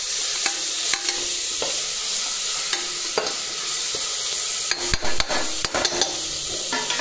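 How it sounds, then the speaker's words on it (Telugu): Golden-browned onions with mint leaves added sizzle steadily in a pan, the frying crackle interrupted by several scraping spatula stirs near the end, close and loud with no speech. "వీటిని మనం గోల్డెన్ కలర్ వచ్చాక వేయించుకోవాలి."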